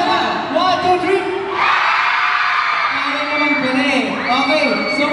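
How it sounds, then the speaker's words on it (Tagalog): A large concert crowd at a live P-pop performance in a mall in Tarlac, Philippines, shouts and cheers loudly on cue, a sustained roar of many voices that rises and swells throughout. "Sobrang lakas na sigaw po."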